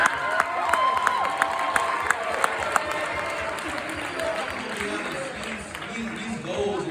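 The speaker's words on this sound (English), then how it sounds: "let's just give a huge round of applause for Mr." A large crowd applauds and cheers for an arriving guest, the dense clapping and whoops steady and loud at first and then thinning into a murmur of voices.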